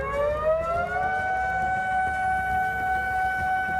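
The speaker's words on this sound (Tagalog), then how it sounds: "Agad na nagpatunog ng sirena ang mga otoridad sa Japan upang bigyang babala ang mga barko sa dagat sa banta ng tsunami" A civil defense tsunami warning siren in Japan wails loud and steady, its layered tones rising slightly and then holding a sustained pitch throughout, with no voices present.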